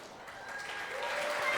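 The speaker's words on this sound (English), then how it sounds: "round of applause for that?" Audience at a fan festival conversation applauds gold medal winners, a short burst of clapping that swells slightly, with faint voices underneath.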